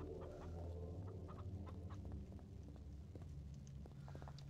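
Chicken in a Tomb Raider Level Editor level clucking softly in scattered short calls over a low ambient rumble, faint and somewhat distant.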